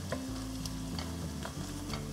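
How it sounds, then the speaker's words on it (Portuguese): Onion and bay leaf sauté in a pan with a soft, steady sizzle and a few light stirring scrapes, quiet and close with no voices. "Vou deixar refogar um pouco até que a cebola fique murcha."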